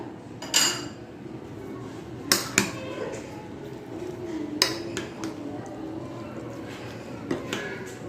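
Biryani masala with ground onion and garam masala is stirred in a pot, the spoon giving several sharp clinks and knocks against the metal amid softer scraping, with quiet background noise between strokes.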